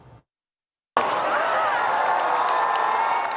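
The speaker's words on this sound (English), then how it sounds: "Onlookers cheering as the Pope is wheeled out onto a balcony of Rome's Gemelli Hospital" Onlookers outside Rome's Gemelli Hospital burst into loud cheering for Pope Francis after a brief pause, a sudden sustained roar of crowd voices and shouts that holds steady to the end.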